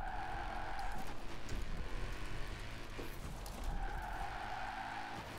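Car engine droning steadily in Forza Horizon 4 with tire squeal swelling and fading across a drifting turn, loud and continuous under game music, no talk.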